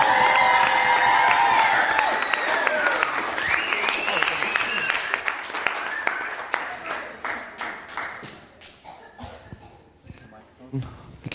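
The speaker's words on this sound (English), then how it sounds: "I want you to cheer. I want you to go crazy and wild for Mr." Wedding guests cheer and applaud the newly married couple at their 2017 reception, a dense, loud wall of clapping and whoops that thins out into scattered, fading claps.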